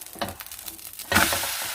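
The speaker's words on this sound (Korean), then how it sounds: "해물이 있어서 밑에 누를 수도 있으니까 가끔씩 이렇게 흔들어 주면서 지글지글 이렇게 천천히 붙여주시면 됩니다" A seafood green onion pancake (haemul pajeon) fries over medium heat in a pan that is shaken now and then, giving a soft sizzle that surges louder partway through and stays steady.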